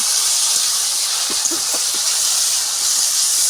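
Spices sizzle in hot oil for a river fish curry of simul and tangra, cooked in a home courtyard. The hiss is steady and close, with faint scattered pops and no talk.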